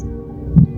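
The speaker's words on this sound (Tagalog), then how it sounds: "biglang bumilis ang tibok ng puso ni Chico" Heartbeat sound effect in a Filipino audio drama, a low, muffled double thump rising near the end over a steady dark hum, with no talking.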